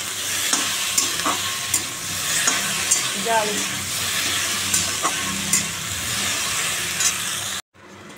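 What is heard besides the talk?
frying okra and pumpkin in a pan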